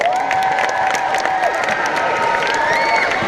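A crowd at the opening ceremony of the 2016 AAU Junior Girls Nationals applauds and cheers for event sponsors, a steady, dense wash of clapping and shouts with a few whistles and children's voices rising throughout.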